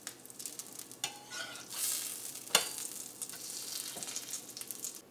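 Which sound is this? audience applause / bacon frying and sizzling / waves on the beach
bacon frying and sizzling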